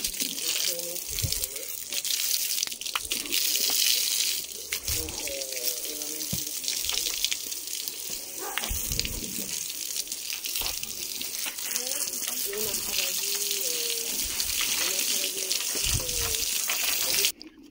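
Shower water hosed over a horse around the girth area, a continuous gushing spray with splashes and drips while a person talks over it throughout.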